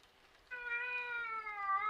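A male domestic cat lets out one long, loud meow that stretches and wavers for over a second, close to the microphone. It rises out of a quiet indoor room with no one talking.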